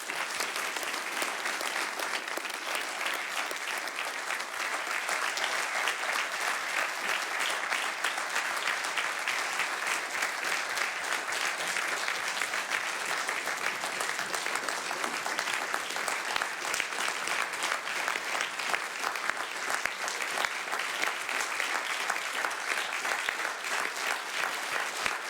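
Audience at a company's annual shareholders meeting claps in sustained, dense applause, loud and even throughout, with no voices over it.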